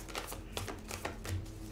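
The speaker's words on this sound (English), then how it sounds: "Just going to give this a quick shuffle." A tarot card deck being shuffled by hand, producing soft rapid riffles and light papery taps in an irregular rhythm, close but quiet, with no talking.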